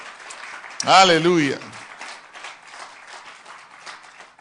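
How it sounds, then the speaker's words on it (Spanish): A church congregation claps through the span, a soft, steady patter of many hands, briefly overlaid by a loud spoken exclamation. "Sí, una fuerte palmas al Señor."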